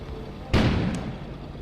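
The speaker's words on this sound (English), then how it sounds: "An explosion suddenly occurred outside." A sudden heavy boom of an explosion outside in the video game Kona, striking sharply and then rumbling away into a long fading tail, heard alone after a quiet moment.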